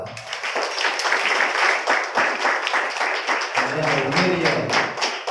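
A church congregation at a feast-day novena Mass claps, a dense, continuous patter of many hands that stays loud throughout, with a brief low tonal sound near the end.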